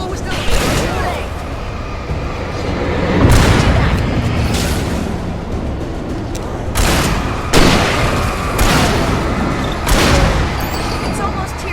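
Gunfire in Alan Wake Remastered, heavy booming shots and blasts landing at irregular intervals over a loud, dense game rumble, with a voice shouting over the din.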